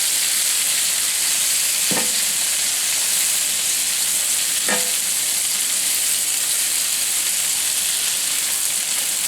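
Garlic, onion and prosciutto sizzle in bacon grease in a skillet, a loud, constant hiss with two sharp scrapes of stirring, no talking.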